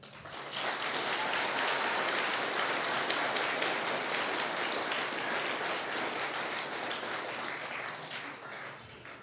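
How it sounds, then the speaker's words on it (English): Audience applause filling a room at a Christmas Eve church program, a dense, steady wash of many hands clapping that starts abruptly and holds loud for about eight seconds before tapering slightly. "give another round of applause to all of those who have made the effort and time"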